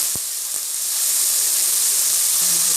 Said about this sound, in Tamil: மீடியம் சைஸில் மூணு வெங்காயம் நாங்கள் வெட்டியிருக்கோம் வெட்டி போட்டிருக்கோம் நல்லா நெய்ஸாக வெட்டியிருக்கோம் வெங்காயம் நல்லா வதக்க விட்டுடலாம்